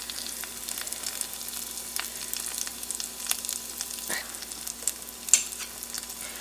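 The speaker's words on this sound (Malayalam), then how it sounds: "ഇഞ്ചി ലൈറ്റ് ബ്രൗൺ ആവുന്ന പോലെ ഫ്രൈ ചെയ്തെടുക്കണം, പക്ഷെ ഇത് കരിയാൻ പാടില്ല കേട്ടോ." Ginger fries gently in a pan over a low flame, a soft, crackling sizzle with scattered pops and faint stirring clicks, fairly quiet and close.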